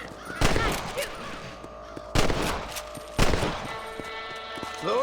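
Rifle shots at rabbits in Red Dead Redemption: three loud, sharp reports about a second apart, each with a brief echoing tail over faint ambient background.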